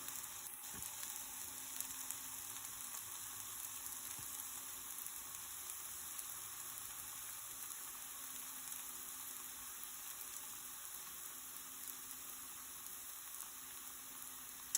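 A crepe sizzles in a hot pan just after flipping, a steady soft frying hiss that continues evenly for the whole stretch, faint and close, with no talking.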